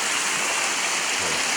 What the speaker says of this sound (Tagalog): Lakas ang tubig.